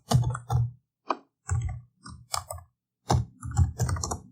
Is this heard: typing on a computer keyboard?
yes